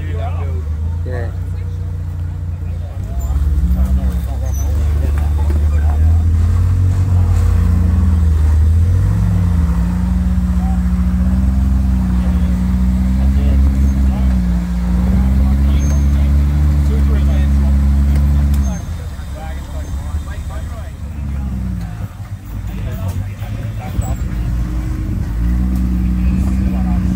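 An off-road buggy engine revs and strains through sustained rising and falling tones as the vehicle climbs rock at a Cherabah Resort rock-crawling competition, loud and fairly close, with voices talking over it.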